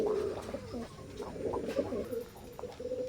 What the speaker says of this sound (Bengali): স্ক্রিনে এখন যে কবুতর জোড়া দেখতে পাচ্ছেন